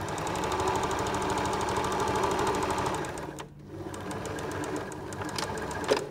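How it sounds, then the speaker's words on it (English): A sewing machine stitches an egg cosy, running close with a steady, fast mechanical chatter, pausing briefly partway through, then resuming at the same even pace. "So we'll sew up one side."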